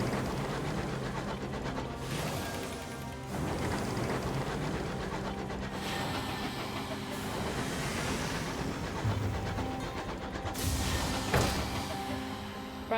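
A damaged steam locomotive in a video game rolls along the rails, giving a steady rumbling, hissing run with a rhythmic clatter. It plays continuously at moderate level, with no voices.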